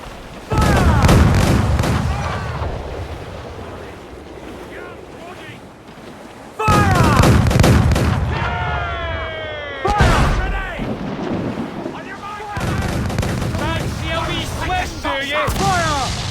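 Ship cannon fire in the pirate game Assassin's Creed IV Black Flag: heavy booms strike amid roaring ocean waves and wind at sea, with shouting crew voices over the naval battle.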